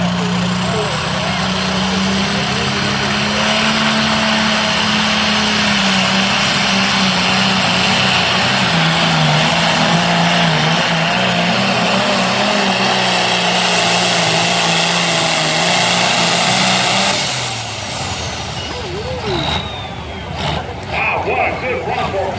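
A turbocharged tractor in a Light Limited tractor pull at Libertytown, Maryland, roars loud and sustained while dragging the sled, its engine whine rising and then dropping off as the run ends, with an announcer's voice over it.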